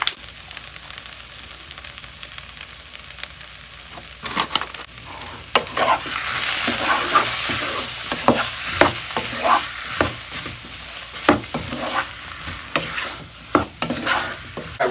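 A flour-thickened mixture frying in a pan, loud sizzling broken up by repeated stirring scrapes that grow busier partway through, with no talking.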